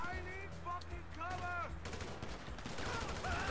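Rapid gunfire from a first-person shooter video game crackles in dense bursts through the second half, following game sound effects, with a player's voice briefly heard.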